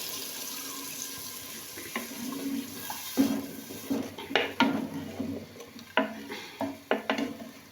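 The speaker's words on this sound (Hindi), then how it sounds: "अभी मैं डालूँगी इसमें गलाने के लिए पानी" Water pours from a tap or vessel into a pot of pea and potato curry, a steady stream at first followed by several sharp clinks and splashes as the pot is handled, with no talk.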